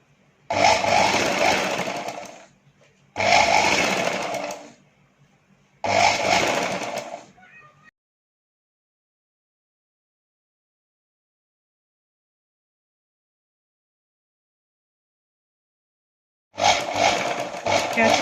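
Sewing machine stitching a katori blouse, running in three loud bursts of about two seconds each with short pauses, then long silence before another burst starts near the end.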